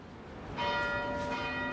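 The Angelus bell of St Anne's Church in the Manchester city centre, a single bell, is struck once. Its ringing tone sustains and hums steadily at a moderate distance, with no voices.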